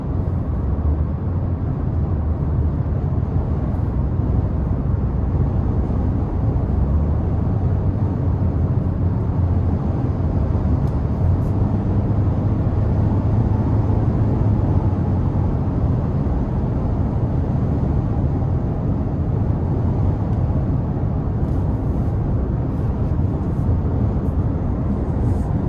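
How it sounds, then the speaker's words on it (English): A steady, loud broadband rumble of wind and road noise fills the cabin of a 2026 Toyota Corolla Cross XLE cruising at highway speed, continuous and unbroken with no voices. "as you get up to speed in this on the highway, you get a little bit more wind noise than what you might anticipate"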